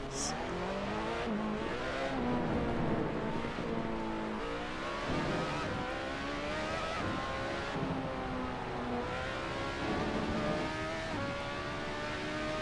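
Formula race car engines in the Assetto Corsa racing game, a continuous loud high-revving whine with repeated rising and falling pitch sweeps as the cars shift gears and accelerate, with no talk.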